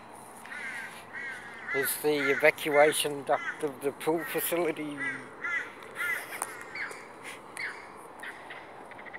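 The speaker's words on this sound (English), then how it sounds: "so the crows are here, so that's okay" Crows cawing repeatedly at a moderate distance outdoors, harsh calls in short bursts while someone talks over them.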